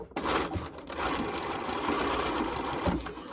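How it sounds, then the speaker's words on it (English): A sewing machine stitches along the side of a pleated fabric face mask, running steadily and close at a fast, even whir, with only a brief pause near the start. "Stitch up this side of the mask."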